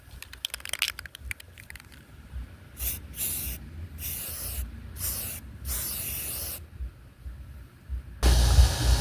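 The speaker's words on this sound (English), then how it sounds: "spray those white so that they match the back of the door" Aerosol can spraying white paint onto door handles in several steady hissing bursts of a few seconds each, close and fairly loud, with no talk.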